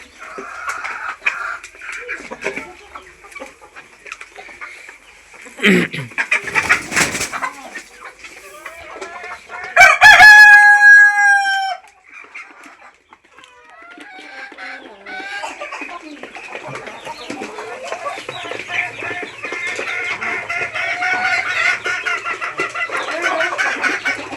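Layer hens cluck steadily in a busy farmyard, and a layer rooster lets out one loud crow partway through.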